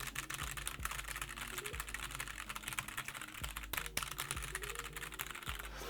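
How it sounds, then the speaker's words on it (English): Rapid typing on a ROCCAT Vulcan 80 mechanical gaming keyboard, a close, steady stream of crisp key clicks and clacks with no talking. "Typing sensation sounds really good."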